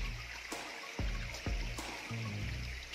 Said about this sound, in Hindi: पानी की कलकल की आवाज़